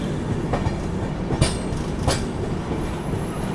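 Howrah–SMVT AC Express passing close by, a continuous loud rumble broken by sharp clickety-clack wheel strikes over rail joints and faint high wheel squeal.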